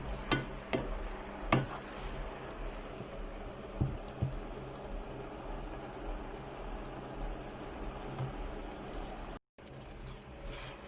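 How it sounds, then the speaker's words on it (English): Spoon stirring tomato into a pot of Durban-style crab curry, soft scraping and clinking with a faint sizzle underneath, a few sharper knocks early on and a steady low cooking noise throughout, no voices. "you're gonna mix it nicely and let the tomato cook out"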